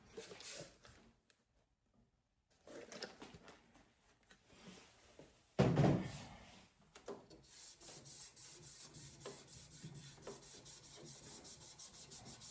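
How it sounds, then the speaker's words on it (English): Rags wiped with 90% alcohol scrub along the rails of an Epson F2100 DTG printer, giving soft intermittent rubbing strokes close by, with a louder swipe partway through and quieter stretches between. "I'm about to use this to clean the rails and see if that fixes it"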